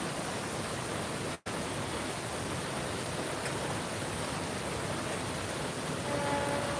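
Heavy rain pours down steadily in a dense, broadband roar that fills the scene, with a brief dropout near the start; no one speaks.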